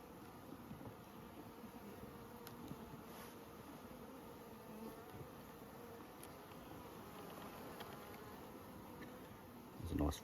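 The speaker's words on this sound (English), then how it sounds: "Bees are just sitting beautifully on the frame" A steady, close buzzing of many calm honeybees on a nucleus hive frame fills the whole stretch, even and continuous, with a brief louder bump near the end.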